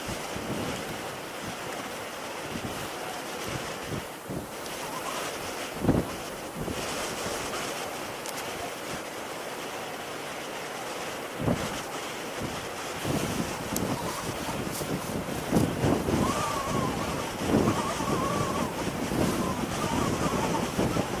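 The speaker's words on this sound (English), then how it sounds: "That wind is making things difficult, I have to say." Wind blows hard into the microphone outdoors near open water, a constant loud rumbling buffet with gusts and waves beneath. Nobody speaks.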